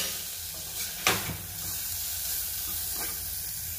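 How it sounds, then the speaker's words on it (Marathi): Tomatoes for dal khichdi sauté in an oiled pan, giving a steady close sizzle with a brief louder stir or clatter near the start and no voices. "तर टमॅटो ऍड केले, टमॅटो परतून घ्यायचं 1-2 मिनिटं, खूप जास्त नाही।"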